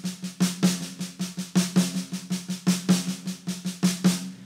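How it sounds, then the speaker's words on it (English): Drum fill on a drum kit played as evenly spaced triplets, a steady stream of close, punchy hits with snare and tom strokes falling in a rolling three-note pulse, with no talk. "We want to play the notes as triplets"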